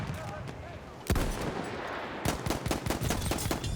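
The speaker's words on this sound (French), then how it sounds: "on va reprendre le sniper avec son petit fusil" Sniper rifle gunfire in Battlefield 1, the World War I shooter game: one sharp loud shot near the one-second mark, then a dense run of close shots and battle noise in the last stretch.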